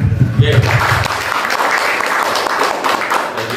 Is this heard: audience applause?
yes